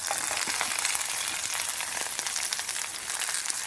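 Chopped shallots, dried red chillies and curry leaves frying in hot oil after mustard seeds have popped, a bright, even crackling sizzle that is close and continuous with no speech.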